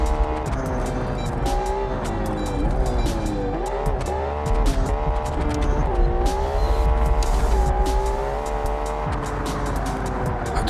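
A very high-powered car in the BeamNG.drive driving game brakes hard from speed, its engine revs rising and falling loudly and continuously while tires squeal underneath.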